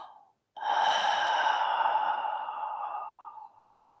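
Slow, audible throat breathing during a meditation session, one long drawn breath of several seconds with a soft rasp, close and quiet, followed by a short trailing exhale.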